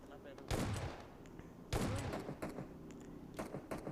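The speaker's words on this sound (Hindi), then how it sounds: "यहाँ पे मैं आगे जाके शॉटगन से एक बंदे को पटकाने" Shotgun blasts in the mobile battle-royale game PUBG Mobile: two loud, sharp reports about a second apart, each with a booming tail, followed by fainter scattered shots and clatter in the background.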